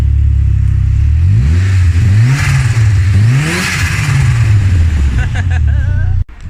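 A Saab B204 engine in a Vauxhall Corsa B, its ECU refitted, revs up and down in several loud, rising and falling sweeps close by, then cuts off abruptly at the end.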